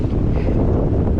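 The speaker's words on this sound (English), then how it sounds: "Crazy windy." Strong, gusty wind buffets the microphone on Keweenaw Bay on a 14-degree February day. It is a loud, continuous roar of broadband rushing noise with no pauses.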